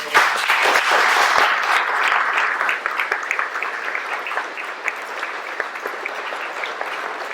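A room full of people applauds a family at a forensic facial reconstruction unveiling, dense clapping that starts loud and gradually thins and softens, with no voices over it.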